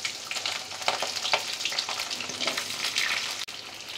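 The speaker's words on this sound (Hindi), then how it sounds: "गोभी को भी फ्राई कर लेंगे" Cauliflower fries in hot oil left over from frying potatoes, a steady close sizzle and crackle with occasional stirring scrapes throughout.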